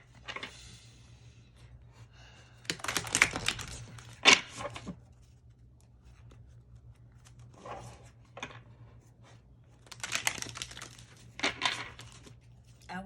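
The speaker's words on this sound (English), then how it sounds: "I'm gonna go ahead and shuffle these cards quite a bit" Tarot cards are shuffled in several short, crisp bursts of riffling and flicking, separated by quiet pauses, close and fairly soft.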